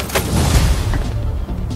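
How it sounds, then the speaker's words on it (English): Fireworks bursting over a New York rooftop in the Spider-Man 2 video game, a short cluster of booming pops and crackles, loud and close, fading quickly. "Rooftop fireworks is complete"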